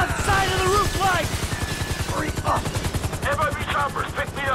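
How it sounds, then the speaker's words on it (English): Rapid automatic gunfire in Grand Theft Auto V, a dense, loud, steady rattle of shots running through the whole passage with game voices and radio chatter layered over it. "we're taking fire from the left side of the roof"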